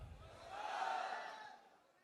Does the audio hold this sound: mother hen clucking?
no